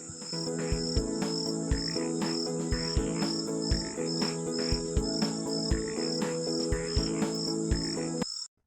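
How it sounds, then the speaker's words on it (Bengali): Crickets chirp steadily at dusk in an animated scene, a dense continuous trill with a regular pulsing rhythm, close and prominent with no talking. "ঝিঁঝি পোকার ডাক শোনা যাচ্ছে"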